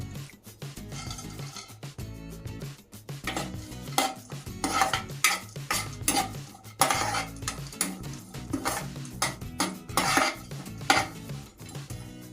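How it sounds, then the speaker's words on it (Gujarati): A spoon or spatula clatters and scrapes repeatedly against a pan as crushed cashews, almonds and walnuts roast in ghee, the loud irregular metallic knocks coming in quick bursts over a faint sizzle. "ઘી ગરમ થાય એટલે કાજુ બદામ અખરોટનો જે ભૂકો કર્યો છે એ શેકી લેશું"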